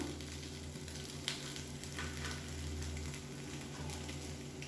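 Kuzhi paniyaram batter frying in the round hollows of a paniyaram pan, giving off a soft, continuous sizzle and fine crackle at a steady level with no voices.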